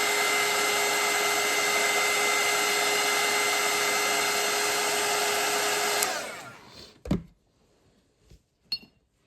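A hair dryer blows steadily over wet watercolour paint on paper, a loud continuous whoosh that cuts off after about six seconds, followed by a couple of faint clinks.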